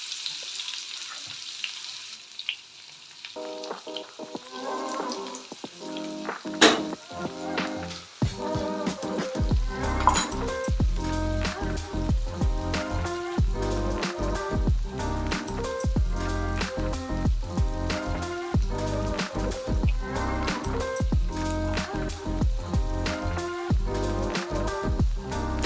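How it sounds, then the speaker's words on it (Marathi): Chopped onion fries for upma in hot oil in a pan, giving a steady close crackling sizzle with stirring that continues throughout, no talk over it. "त्याच्यामध्ये आपण कांदा टाकून घेणार आहोत."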